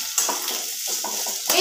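Sliced onions sizzle in oil in a pan for a chicken dish, a brief close hiss with a couple of quick stirring scrapes at start and end, moderately loud.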